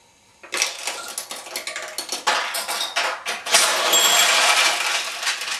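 Metal balls clatter and rattle down through a Nishijin pachinko machine, a dense run of bright clicks and pings that starts after a short quiet moment and builds into a busy, continuous cascade, fairly close.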